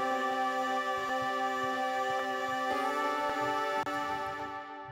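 Vocal sample played as a melody through Ableton's Granulator granular synth: sustained shimmering tones in steady harmonic layers, shifting pitch gently a few times and fading slightly toward the end, alone without talk.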